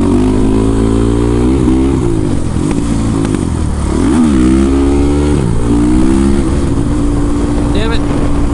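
A street legal ATV with JB-welded parts revs hard and loud for a wheelie, its engine note climbing and falling in repeated surges close by, with no voices over it.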